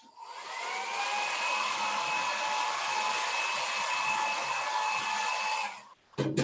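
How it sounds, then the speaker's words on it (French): Hair dryer blowing steadily with a high whine and rushing air for about six seconds, close and moderately loud, then cutting off abruptly. "Pour faire bouger les électrons, j'ai trouvé le nec plus ultra, un sèche-cheveux."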